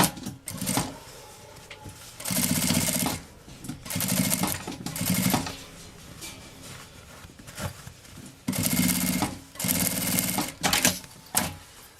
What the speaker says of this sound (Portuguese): Vou passar uma costurinha aqui, rebatendo.